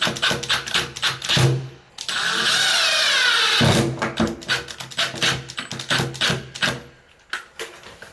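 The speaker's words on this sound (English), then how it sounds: "So now we can screw this one here straight up." A screw driven with a power drill into wooden backing to fix a ceiling repair patch: one short rising whir of about a second and a half, set among nearby clicks and handling clatter, close and fairly loud.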